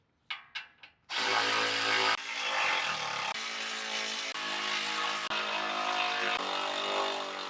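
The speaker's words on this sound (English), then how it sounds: "With all 6 of our bolts in, we can now tighten everything down." A power tool drives the six skid plate bolts home on a Toyota 4Runner, starting with three quick clicks before a loud, sustained whir that keeps running with slight shifts in pitch.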